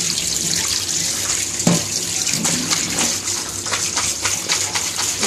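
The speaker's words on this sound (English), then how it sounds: "I'm just washing it with hot water to get rid of the ice." Frozen mixed vegetables being rinsed under a hot running tap to melt off the ice, a steady close hiss of water over a sink with a brief louder splash partway through.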